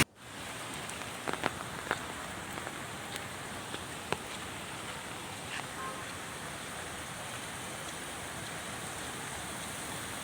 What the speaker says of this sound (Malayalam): എറണാകുളത്ത് അതിശക്തമായ രീതിയിലാണ് മഴ പെയ്തുകൊണ്ടിരിക്കുന്നത്